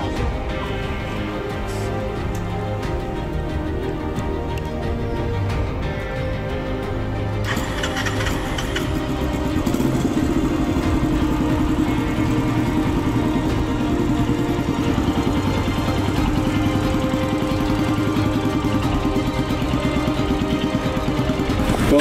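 A restored Wardill motorcycle runs steadily as it is ridden for the first time, its engine holding a continuous mid-pitched drone that grows slightly louder and fuller partway through, with no talking.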